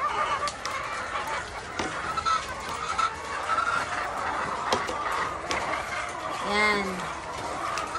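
RTL chickens clucking excitedly at feeding time, a busy flock of near and far clucks with a rising squawk, under a voice speaking over them.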